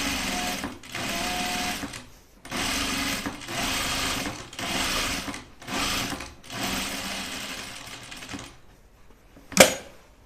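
A sewing machine stitches a shirt placket with interfacing in bursts of rapid mechanical whirring, pausing briefly between runs, then stopping, followed by a short sharp click.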